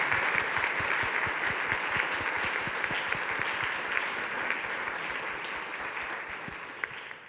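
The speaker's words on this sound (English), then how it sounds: "Can we give a round of applause for the great Virgil Abloh" Audience applause at a talk event honouring Virgil Abloh, a full steady clapping crowd with a few sharp nearby claps standing out, sustained for about seven seconds before gently fading.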